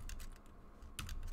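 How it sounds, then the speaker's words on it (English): Quick keystrokes on a computer keyboard while programming code comments for a motor, coming in short bursts with a pause midway, close and fairly quiet. "Typing things in like this"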